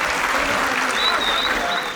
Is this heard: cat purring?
no